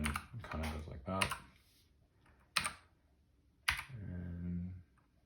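Typing on a Keychron K4 mechanical keyboard, with a few short bursts of clustered key clicks separated by pauses, close and fairly loud, while a voice speaks in between.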